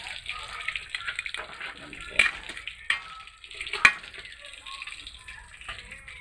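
Fish sizzling and crackling in a pan of hot oil for a home lunch, a steady close hiss broken by a few sharp pops and clatters.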